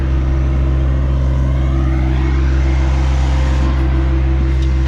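Ride1Up Turris e-bike under full throttle heading slightly downhill, a steady loud hum and drone from motor and road with wind rush, continuous and close without speech.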